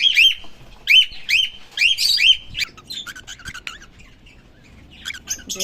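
Pet cockatiels and budgies in a cage screeching and chirping loudly, a rapid run of sharp repeated calls that thins into scattered quieter chirps and squawks.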